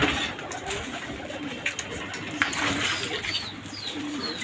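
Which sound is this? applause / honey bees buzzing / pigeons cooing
pigeons cooing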